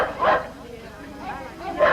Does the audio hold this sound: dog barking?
yes